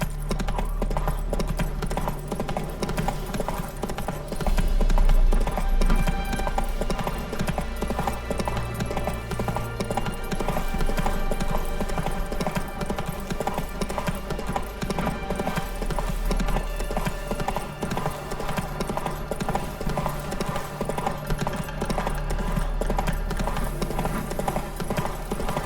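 Horse hooves trot steadily in The Witcher 3, clip-clopping in a continuous rhythm at close range over a constant game ambience, with a brief soft thump near the start.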